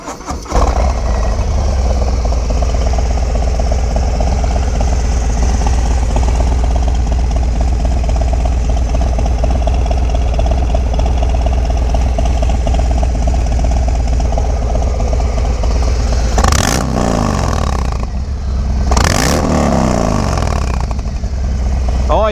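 A 2019 Harley-Davidson FXDR 114 V-twin motorcycle engine fires up and settles into a loud, rumbling idle with a steady low throb, then revs sharply twice near the end.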